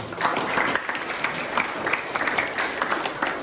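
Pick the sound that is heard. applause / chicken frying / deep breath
applause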